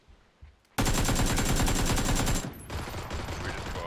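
Loud, rapid automatic gunfire from a PUBG match: a sustained burst of closely spaced shots, followed by quieter, continuing fire and ambient battle noise.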